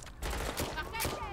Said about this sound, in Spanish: ¿Quién me dispara? ¿Quién está disparando?